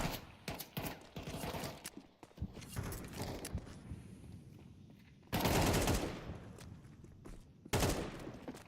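Gunfire in a Counter-Strike 2 semifinal match: scattered rifle shots and bursts, fairly faint, with two louder sustained volleys near the middle and end.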